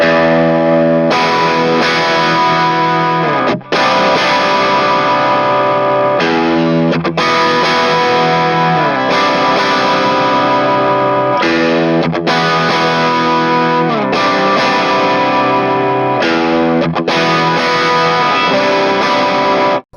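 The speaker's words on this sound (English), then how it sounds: "if I play some sort of big chord" An electric guitar strummed in big sustained chords through a custom valve amp with diode or valve rectifier, loud and distorted, each chord ringing out for a few seconds before the next is struck, with no talk.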